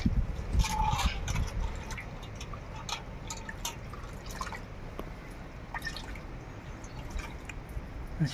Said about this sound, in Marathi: आता अजून त्याला चांगल्या पाण्यानं धुवून घ्यायची